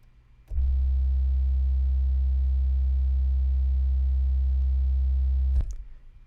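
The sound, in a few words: synthesized sine wave tone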